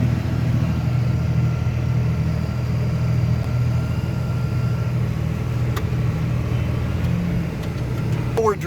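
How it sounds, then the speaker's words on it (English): A truck driving alongside a combine harvester through a Kansas soybean field, its engine a steady, loud rumble throughout with a few faint knocks and a brief rattle at the end. "We're driving next to the combine, which is shooting the soybeans that it has harvested into the back of this truck"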